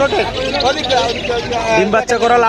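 At a pet bird market selling lovebirds, busy chirping and tweeting mixes beneath someone talking close up amid crowd chatter.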